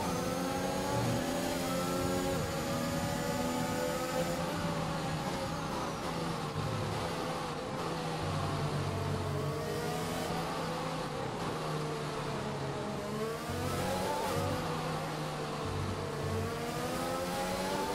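A Formula 1 car in the F1 2021 racing game holds a high, whining engine note at full throttle, its pitch rising and dipping as it shifts through gears, steady and close with no talk.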